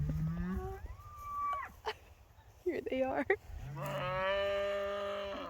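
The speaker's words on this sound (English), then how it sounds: "Remember those moos we heard earlier at dinner?" Cattle moo on a farm, several long, drawn-out calls at moderate distance, one after another, with a person speaking briefly between them.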